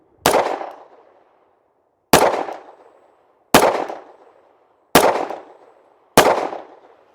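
Five loud, evenly spaced shots from a Kimber Micro 380 pistol firing Underwood 68 grain 380 ACP ammunition, each a sharp crack with a short ringing decay, no talking.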